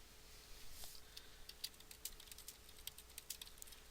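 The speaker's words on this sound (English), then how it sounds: "I just type in the text there." Typing on a computer keyboard while adding text in Adobe Acrobat X, a faint, quick run of light irregular clicks heard close and alone over a quiet background.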